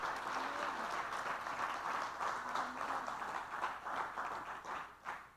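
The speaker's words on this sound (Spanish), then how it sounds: "Denle un fuerte aplauso a Dios." A church congregation gives a strong round of applause to God during a Spanish-language sermon: steady, dense clapping from a crowd in a hall, with faint voices mixed in before it tapers off.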